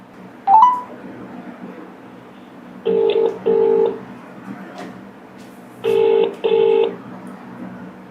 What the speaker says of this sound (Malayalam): ഞാൻ വിളിച്ചു നോക്കട്ടെ കിട്ടുമോ ആ വിളിച്ചു നോക്കാം